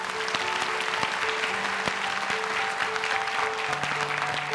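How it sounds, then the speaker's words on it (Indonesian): A television studio audience on Hafiz Indonesia 2020 claps for the young hafiz Aska. The applause is dense and continuous, with steady background music tones beneath it. "tepuk tangan dong untuk Aska"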